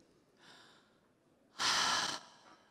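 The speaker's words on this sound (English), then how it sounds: "Everybody take a deep breath." An audience at a conference talk inhales together, a soft swell followed by a louder, broad collective exhale of breath lasting about half a second, then quiet.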